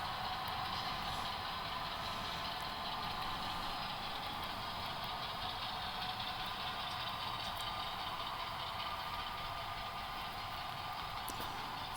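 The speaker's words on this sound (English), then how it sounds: "You can hear I have the switcher at West Vaco was idling." A model railroad switcher locomotive's engine sound idles steadily nearby, a constant low rumble with a droning mechanical hum that never changes throughout.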